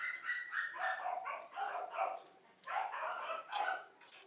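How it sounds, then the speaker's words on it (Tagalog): A dog at a cage gives a run of short, high whining yips in an uneven rhythm, fairly close and clear, with no other sounds competing. "At bigla ang may dumating na aso."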